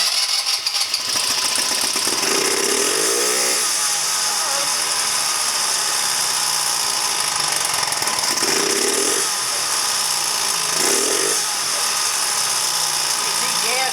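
A 2009 Genuine Buddy 125 scooter engine idles loudly and steadily with a rattling, buzzy drone, while a voice speaks briefly a few times over it.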